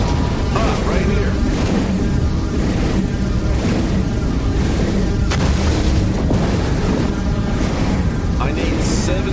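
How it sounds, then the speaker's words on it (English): In No Man's Sky survival mode, a multi-tool fires at small rocks to gather ferrite dust. Dense, continuous booming blasts and mechanical bursts repeat loudly over a steady game background, with a voice talking through them. "Gather ferrite dust by shooting small rocks."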